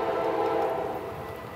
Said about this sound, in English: looks like so far we got a freight train coming